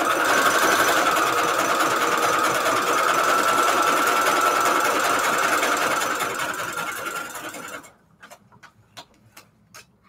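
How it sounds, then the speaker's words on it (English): A sewing machine stitches paper book-page envelopes with a loud, rapid, continuous whirring that runs for about eight seconds, then stops and gives way to a few faint clicks. "I'm going to sew this part here first."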